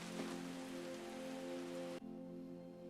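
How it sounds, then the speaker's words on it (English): Steady rain falls in a scene from the animated film Spider-Man: Across the Spider-Verse, a dense continuous hiss alone with a low tonal hum beneath, the bright rain texture cutting off abruptly near the end. "it's not raining in this universe, but it is in the one that Gwen is at"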